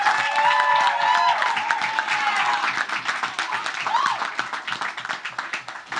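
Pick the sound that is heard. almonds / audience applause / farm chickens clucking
audience applause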